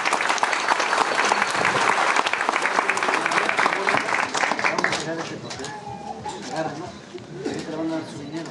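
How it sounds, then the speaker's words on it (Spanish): Applause from the audience at a pension event for older adults in San Miguel Ixtapan, loud and dense at first, then thinning out after about five seconds as pigeon-like cooing and a voice come through. "Un fuerte aplauso, por favor."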